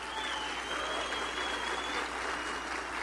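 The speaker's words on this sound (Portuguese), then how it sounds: "quero que vocês deem um forte aplauso" Steady, dense applause from a crowd at a business talk, many hands clapping at once at a moderate distance.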